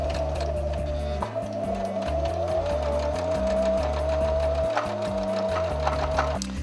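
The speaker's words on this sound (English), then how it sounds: "I can start doing my blind hem" A sewing machine runs steadily up close, stitching a blind hem on folded fabric, its needle chattering in a fast, even rhythm with a faint whine above the mechanical clatter.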